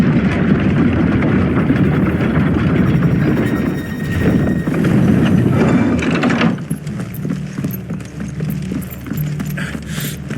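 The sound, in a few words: horses clip-clopping in video game Final Fantasy XVI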